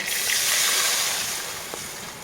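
Rice water is poured into hot fried onions and chillies, making a continuous bright hiss and sizzle that swells and then slowly fades over a couple of seconds.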